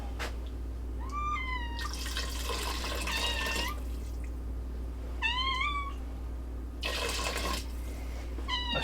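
Indoor cat meowing several times in short, rising cries, fairly close, over a quiet hum with faint running water in a kitchen.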